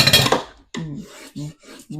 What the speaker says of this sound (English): Burnish the tape so it can be moved.